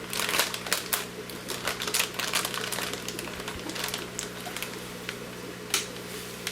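Plastic fish bags being handled, a steady close crinkling and rustling that runs throughout, with a low hum from fish room equipment underneath.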